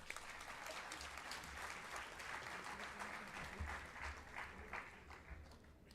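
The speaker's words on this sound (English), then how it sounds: "Let's give one more round of applause." A university audience applauds the Pro Vice Chancellor's address at a hackathon event, with steady dense clapping filling the hall for the full stretch, fairly distant and even, with no voices over it.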